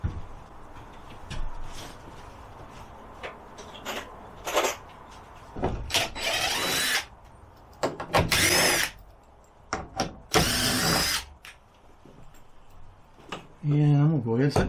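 A power drill backs screws out of a TV mount bracket inside an enclosed trailer, in several loud whirring bursts of a few seconds each separated by quiet pauses, with someone talking in between.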